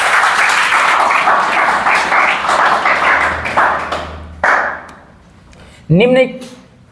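Class of students clapping hands together in a classroom, a loud burst of applause that thins into scattered claps and fades, followed by a teacher speaking.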